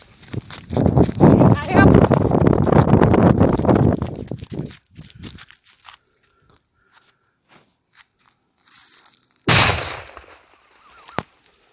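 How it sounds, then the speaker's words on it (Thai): A homemade explosive made with saltpeter, buried in the ground, goes off as one sharp, loud blast late in the clip. Loud talking and rustling come first, then a quiet stretch before the detonation. "ผมก็ได้ฝังระเบิดไว้โคตรดีแล้วนะครับ เดี๋ยวมาลองกันดีกว่านะครับ"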